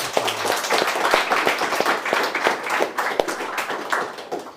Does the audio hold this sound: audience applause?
yes